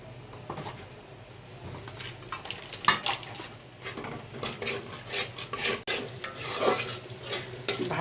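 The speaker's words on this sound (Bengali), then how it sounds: "ভালো করে মিক্স করে নিচ্ছি মশলাটা" Spice masala and sour yogurt are stirred together in a metal pot, a busy run of close scraping and clattering strokes of a spoon against the pot's sides and base.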